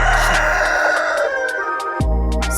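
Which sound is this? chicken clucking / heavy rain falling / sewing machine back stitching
chicken clucking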